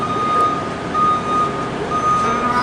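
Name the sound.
truck reversing beeper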